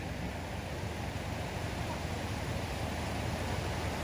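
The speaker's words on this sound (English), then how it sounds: "Look at that river." A river flows steadily through the high country of Victoria, Australia, a constant broadband rush of water over rocks heard up close, loud and unbroken, with no voices.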